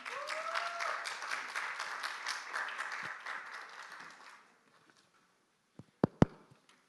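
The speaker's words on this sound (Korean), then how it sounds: "박수 부탁드립니다" Audience applause at a university results-sharing showcase fills a hall for about four seconds, then fades to near silence before a couple of sharp knocks.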